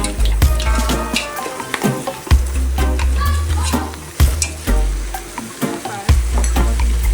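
Jamaican goat curry stirred in a pressure cooker pot, loud continuous sizzling broken by repeated scraping strokes and clanks of a spoon against the metal, close up and without talk.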